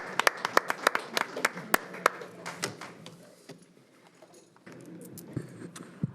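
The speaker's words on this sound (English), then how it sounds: "I'm just going to clap." Clapping at a school board of education meeting: a burst of sharp individual claps, fairly close, fading after about two seconds into a quiet room with faint rustling and a few scattered soft knocks.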